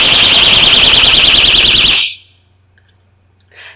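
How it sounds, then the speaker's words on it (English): A pocket personal safety alarm, a small beeper-like device with a belt clip, shrieks loudly when its cord is pulled, a piercing warbling siren that sounds for about two seconds and then cuts off abruptly, leaving near silence. "This is actually an alarm that I was given when I was overseas. So if in case I ever came across a bad situation, I could just pull the cord."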